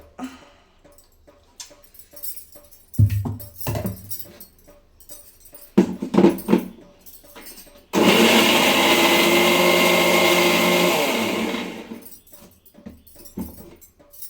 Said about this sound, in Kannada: ಮಿಕ್ಸಿ ಆಯಿತು.